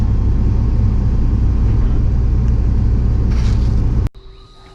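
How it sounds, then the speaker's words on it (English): A fuel delivery truck approaching down a road toward a diesel tank refueling setup: a loud, steady low engine rumble with no talk, cutting off abruptly near the end to quieter background. "I can hear the truck coming down the road"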